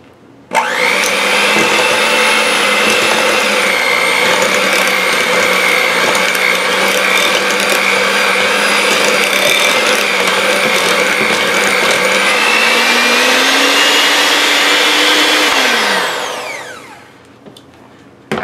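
A hand blender whirs through imitation crab meat and green onion dip in a bowl, loud and close. One continuous motor drone holds for about fifteen seconds, its pitch shifting slightly near the end before it winds down and stops.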